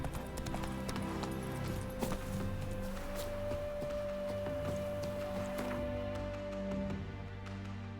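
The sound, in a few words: horse Roach galloping in video game The Witcher 3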